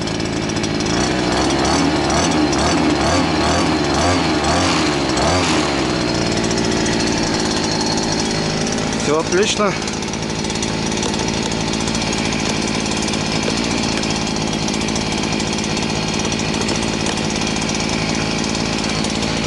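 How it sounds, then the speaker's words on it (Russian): Redverg gas string trimmer engine running in after starting, a loud, continuous two-stroke drone with a brief rev change midway, while someone speaks a few words. "Двигатель на обкаточке. Пускай подарабанит немножко."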